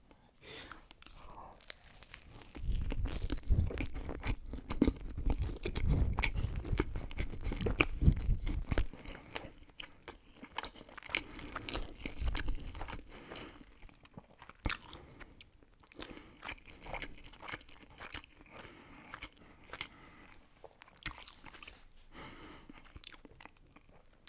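Close-up ASMR eating of McDonald's food, with crunchy bites, chewing and wrapper crinkles, loudest early on, then softer mouth sounds under occasional whispered talk.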